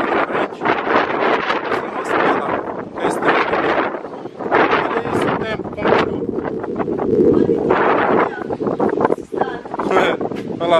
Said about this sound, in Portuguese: Galera, começou. Mais um temporalzinho pra variar.